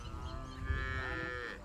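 A single long, low cow moo rising and holding, fairly close, over faint outdoor background noise on a dairy ranch in Guárico, Venezuela.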